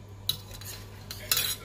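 Metal spoon scraping and clinking against a pot while stirring sugar into a rice flour and wheat flour batter, a few short scrapes close up with a low steady hum underneath.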